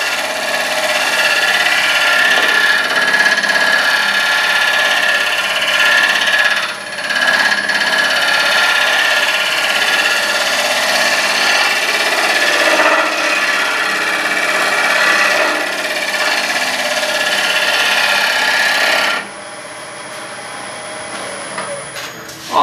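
A wood lathe turns a hackberry bowl while a gouge takes light finishing cuts on the outside, giving a continuous loud hiss and scraping whir with brief dips between passes, ending in a sudden quieter stop.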